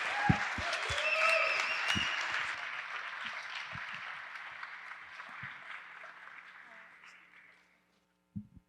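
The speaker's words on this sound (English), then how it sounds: "So please give them a big round of applause." An audience applauds at a hackathon talk, a dense wash of clapping that swells quickly, then slowly thins and fades out over several seconds, with a few louder close claps and a brief thump at the end.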